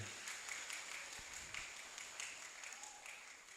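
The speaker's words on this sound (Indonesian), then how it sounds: "Tepuk tangan yang sangat meriah." Faint, steady applause from an audience at a school event, a continuous patter of many hands that stays distant and low throughout.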